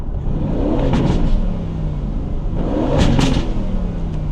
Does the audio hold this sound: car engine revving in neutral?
yes